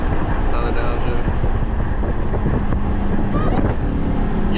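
Hellcat Charger V8 roars loud and close through a downshift, its supercharger whine running steadily over heavy engine rumble and wind buffeting, with voices chattering underneath.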